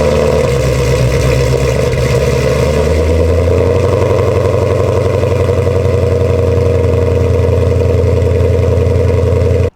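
A 1,000 horsepower Ford Mustang muscle car, owner-built, fires up and settles into a loud, steady, throbbing idle rumble that continues nonstop and close by, with no voices.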